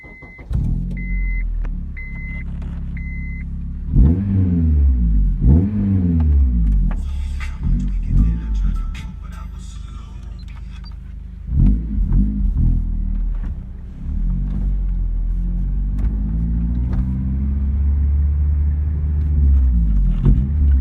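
A car with a K20 engine, Skunk2 intake and a louder replacement exhaust back box drives and revs repeatedly, deep exhaust rising and falling in pitch, heard from inside; a few electronic beeps chime at the start.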